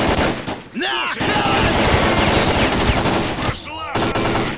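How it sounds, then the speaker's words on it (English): Rapid machine-gun fire in a video game rattles loud and dense for most of the stretch, with brief pauses and a couple of sharp electronic zaps cutting through. "I think that's them shooting us"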